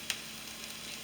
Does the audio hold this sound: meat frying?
yes